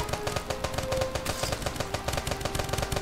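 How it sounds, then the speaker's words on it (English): Gunfire in the video game Starbound, a fast, steady rattle of repeated shots over a continuous background tone, close and moderately loud with no voices. "Go shoot them!"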